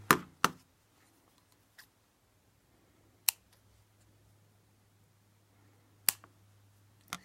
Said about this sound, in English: Then what you do next is cut this bit and this bit, here and there, here and here. Just cut it.